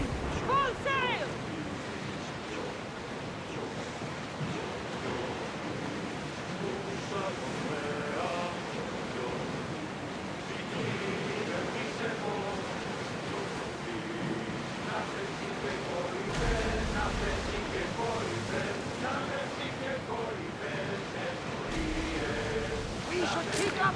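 Waves wash steadily against a sailing warship at sea in Assassin's Creed Odyssey, a continuous broad rush of surf and wind under spoken commands, with a couple of heavier swells surging near the end.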